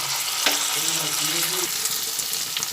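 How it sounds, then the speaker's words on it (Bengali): Cashews and raisins fry together in hot oil in a pan for fried rice, a steady close sizzle broken by a few clinks and stirring scrapes, no voices. "কাজু বাদাম আর কিশমিশটা দিয়ে দিলাম দিয়ে এর মধ্যে এগুলো একসঙ্গে দিয়ে ভেজে নিচ্ছি"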